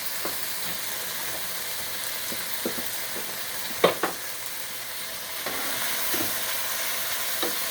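Breakfast burrito filling left to fry in a pan, with a constant sizzle and hiss close by and a few soft knocks and clicks from the pan, one louder tap near the middle.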